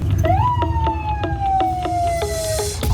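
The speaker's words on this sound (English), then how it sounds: "Is this actually a police car?" A police car siren in Haiti, close and loud, starting with a rising wail and then holding a long, slowly falling tone over road noise.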